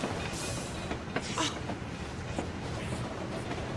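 Train running in the James Bond 007 Blood Stone video game, a steady broadband rumble and rattle of the carriages with faint clicking, continuous and fairly loud throughout.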